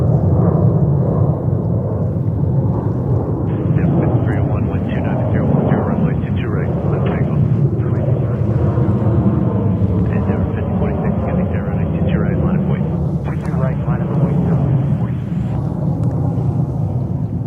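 A jet airliner roars loudly and steadily while landing on runway 22 left at JFK Airport, a broad continuous rumble with air traffic control radio chatter crackling over it.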